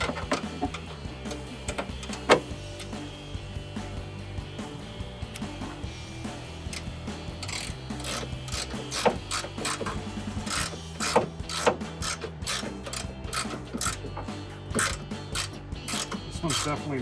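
A 13 mm socket ratchet loosening cold air intake screws on a Sierra 1500, rapid clicking pawl strokes in close, uneven bursts that grow busier and denser toward the end, with no talk.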